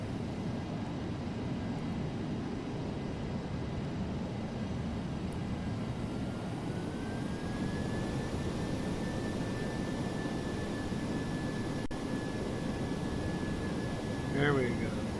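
DC-8 jet engines idling in Flight Simulator X, a steady broad rumble with a faint high whine that rises and holds, continuing uninterrupted throughout.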